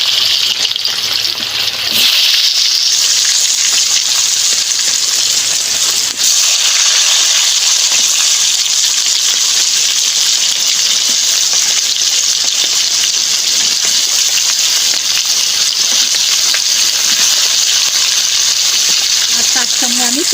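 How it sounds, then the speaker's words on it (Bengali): Pumpkin pieces fry in hot oil, starting with a sudden loud surge of sizzling as they go into the pan, then a dense, steady crackling hiss that continues close up to the end. "এবারে আমি কুমড়োগুলো ভেজে নেবো।"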